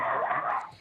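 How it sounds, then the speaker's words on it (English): A dog named Bruno gives a short, low, rough growl, close and fairly loud, less than a second long, with no speech. "That's the dog."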